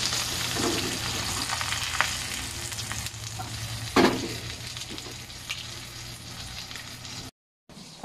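Dried tuyo fish crackles and sizzles steadily in a pan for several seconds, close up, with a brief stir-like scrape midway and a short dropout near the end.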